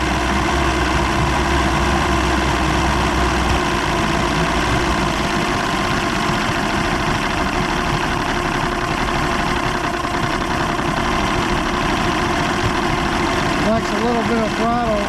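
An Evinrude 150 hp outboard engine runs steadily at idle with a rough, spitting note, loud and constant throughout, and a voice is briefly heard near the end.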